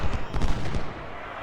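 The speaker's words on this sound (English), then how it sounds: "All the artillery just opened up at the right time" Artillery fire in the video game Ultimate General: Civil War, at the Battle of First Manassas: a brief, moderately faint cluster of several booming shots in quick succession that fades out.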